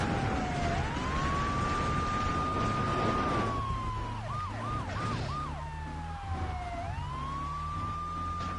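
A police car siren in the GTA 3 video game wails steadily with long rising and falling sweeps and a quick yelping burst midway, heard alongside car engine noise and steady game background sound.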